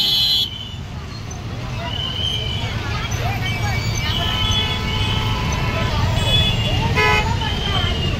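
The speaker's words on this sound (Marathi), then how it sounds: "ट्रॅफिक बघा वेस्टर्न एक्सप्रेस हायवेला, रविवार असून देखील" Busy Sunday traffic on Mumbai's Western Express Highway: a constant roadway roar with repeated car horns honking near and far, and a murmur of voices in the background.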